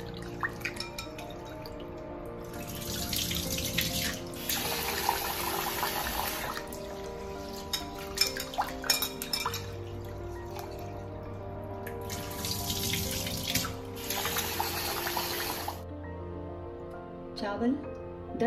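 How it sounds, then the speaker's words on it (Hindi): Rice is washed by hand in water in a home kitchen: splashing, sloshing and trickling come in bursts, with drips and running water, and a steady hum underneath. "3-4 बार धो लेंगे अच्छी तरह, जब तक पानी साफ ना निकल आए।"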